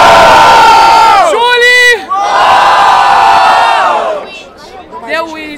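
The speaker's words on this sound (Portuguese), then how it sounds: "Barulho pra cima, Zil Winit!" A crowd at the grand final of a Brazilian freestyle rap battle roars with loud cheering and shouting in sustained waves, nearby and dense, briefly dipping before another surge of whoops.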